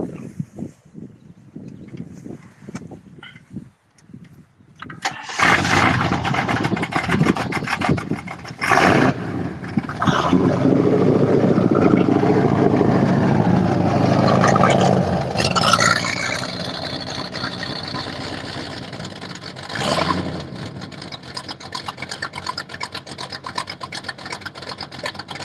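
A 1969 Shelby muscle car, one of those sold to Hertz as rentals, cranks over and catches around five seconds in, then settles into a loud, steady rumbling run with a couple of sharp throttle blips, close by.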